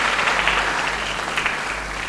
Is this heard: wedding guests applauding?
yes